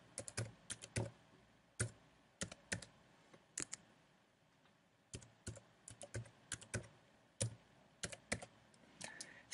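A password is typed on a computer keyboard as scattered, quiet key clicks arrive in short bursts and single taps against a near-silent background.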